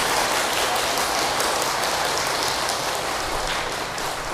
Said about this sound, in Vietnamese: Cảm ơn những tràng vỗ tay thật lớn của quý vị.